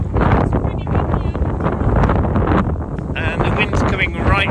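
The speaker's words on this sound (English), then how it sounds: "So as you can see by my hat, it's pretty windy." Strong wind buffets an outdoor microphone in a steady, loud low rumble with gusty surges, while a person talks over it throughout.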